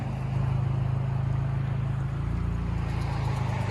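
A 2020 Kia K5 GT turbo sedan with straight pipes and a high-flow catalytic converter, running in sport mode, gives off a low, continuous exhaust rumble, close and steady with no pauses.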